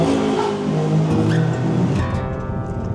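A car engine revving loudly as the vehicle climbs a winding mountain road in Aurora, with the engine note rising and shifting through gears in a steady, close drone.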